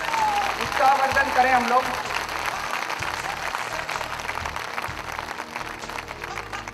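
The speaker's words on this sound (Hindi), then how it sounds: "जोरदार तालियों से इनका" An audience in Sangam Vihar, Delhi, applauds street-theatre performers, a dense patter of clapping that swells early and then continues steadily while someone speaks over it.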